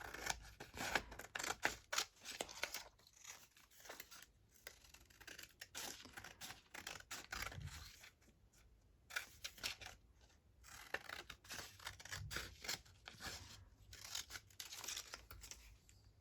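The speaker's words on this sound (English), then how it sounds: "I'm going to snip my corners off right now." Scissors snip the corners off paper for Christmas ephemera crafting, a quick run of close, crisp clicks and cuts coming in bursts with short pauses between them, alone and fairly quiet.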